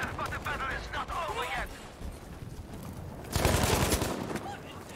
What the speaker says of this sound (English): Dude, I love this gun.